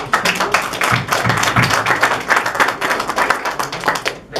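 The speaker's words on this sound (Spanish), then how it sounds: "Un aplauso para..." Audience applause closing a school debate tournament session, a dense burst of close, loud clapping with uneven, fluttering rhythm that continues steadily and tapers near the end.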